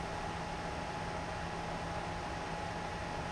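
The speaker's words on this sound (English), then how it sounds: "This switch is designed to be, rack mounted in a network rack, and so the fans are a little loud." Stock cooling fans of a TP-Link TL-SG3210XHP-M2 rack-mount network switch, running out of the box: a steady, faint broadband whir and hiss with a thin constant hum, alone and unchanging throughout.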